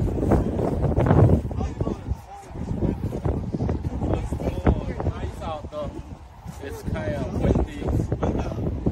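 Gusty wind buffeting the microphone outdoors at the Skagit Valley Tulip Festival in Mount Vernon, Washington, with people talking over the rumble.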